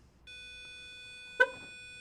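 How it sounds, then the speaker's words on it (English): A Rover 75 car gives a steady electronic beep tone continuously, with a short sharp chirp partway through; no talking. "Still beeps."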